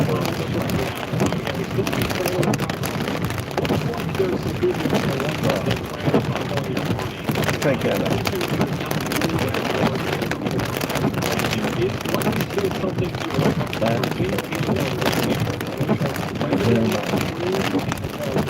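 Heavy rain pours steadily during a severe tornado-warned thunderstorm about 20 miles east of St. Louis, a dense, constant wash of drops with wind buffeting the microphone, while people talk briefly over it.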